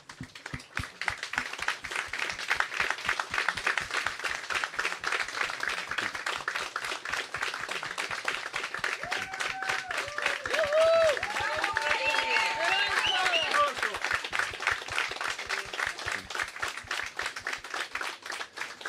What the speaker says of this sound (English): I'd like to first that we just give a round of applause,